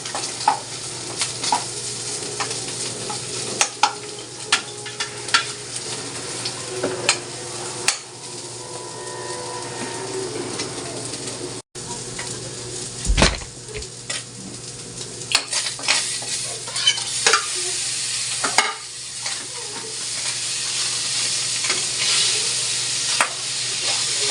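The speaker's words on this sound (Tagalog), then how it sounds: "Igisa lang natin yung ating sibuyas" Chopped onion, tomato and garlic sauté in a hot pan with a steady, bright sizzle, broken by frequent close scrapes and taps of a spoon stirring against the metal over about twenty-four seconds.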